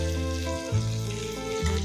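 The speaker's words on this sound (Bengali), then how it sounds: "ভাজছি। ট্যাংরা মাছ," Tangra fish sizzling as it fries in a pan, a steady close frying crackle with a few shifts in tone as the pieces are moved, no talking.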